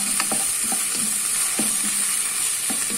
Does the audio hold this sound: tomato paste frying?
yes